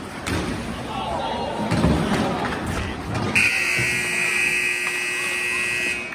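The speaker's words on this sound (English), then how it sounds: "Buzzer sounds, and that'll end the game." Noisy hockey arena crowd and thumps, then a long, steady electronic buzzer ending the exhibition game sounds and holds to the end over the crowd.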